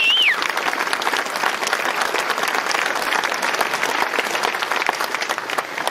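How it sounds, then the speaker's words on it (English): A large crowd at a grand opening event gives a sustained round of applause, dense and loud clapping that holds evenly throughout. "we mark their absence today with a special round of applause."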